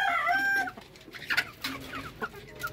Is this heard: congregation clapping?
no